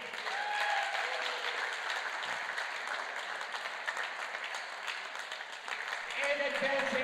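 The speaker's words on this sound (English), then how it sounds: "Ladies and gentlemen, a big round of applause for Malaysian Enyao." A squash crowd in New York City applauds a Malaysian player after a five-game semi-final win, sustained clapping with a voice speaking over it.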